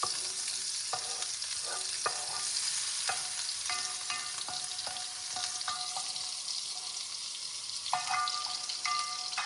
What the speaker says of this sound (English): Let me just fry it over here.